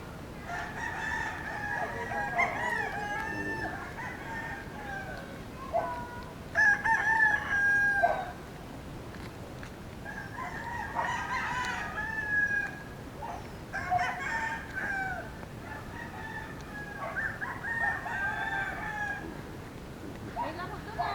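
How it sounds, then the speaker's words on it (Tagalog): Roosters crow repeatedly in a rural Philippine neighborhood, several calls overlapping at medium distance, with occasional clucking and someone talking in between. "Dami rin manok dito."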